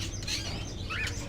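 Caged birds in Fahrenheit: Indigo Prophecy Remastered give a couple of faint, brief chirps over a low steady room hum, without any talking.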